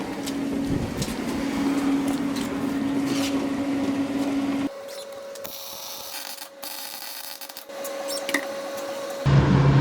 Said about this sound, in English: That fan just came on.